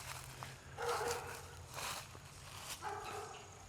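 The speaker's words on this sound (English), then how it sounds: "Dogs." Dogs bark nearby in a few short bursts spread across several seconds, moderately loud against a quiet room background, with no speech.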